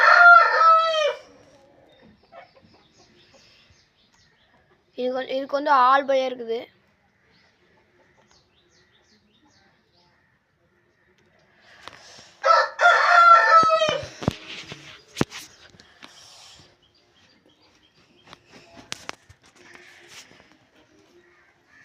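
A rooster crows loudly several times, near and clear, with short bursts spaced through the clip and a person speaking between the calls.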